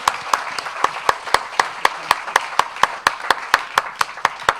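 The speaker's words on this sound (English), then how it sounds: "Give them a round of applause" Applause from a small audience at a live art performance, with steady, closely spaced claps ringing out evenly for several seconds, fairly near and without voices over it.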